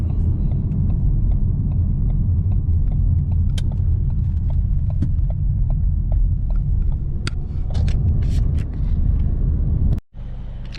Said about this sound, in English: So now I'm driving, trying to charge my battery up.